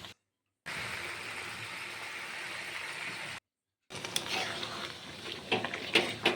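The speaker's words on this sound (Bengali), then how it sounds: "এখন আস্তে আস্তে এর মধ্যে অল্প জল দিয়ে কষানো হচ্ছে" Chicken and fried potatoes cook down in a pan with a little water, giving a steady broadband sizzle that cuts out briefly, then returns with scattered clinks and scrapes of a utensil against the pan.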